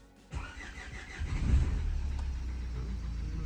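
A Renault 1.5 dCi diesel engine cranks briefly with the starter, then catches and runs at a steady, rumbling idle, heard up close.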